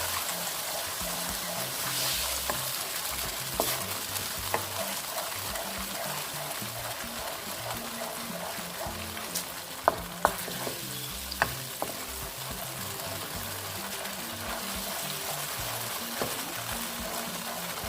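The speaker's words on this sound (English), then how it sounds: "fry till it's brown" Shrimp for honey walnut shrimp frying in a pan until brown, a dense continuous sizzle and crackle with occasional sharper pops, close and steady with no talking.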